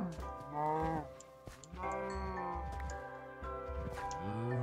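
Cows in a video game give drawn-out, low moos with gliding pitch, several calls in a row overlapping faintly against a quiet background.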